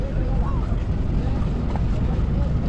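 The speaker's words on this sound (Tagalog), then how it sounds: "sakay natin ng bangka" Constant low engine rumble and water rush of a motorboat carrying a mobile catering kitchen underway in Macabebe, Pampanga, loud and close, with a faint voice in the mix.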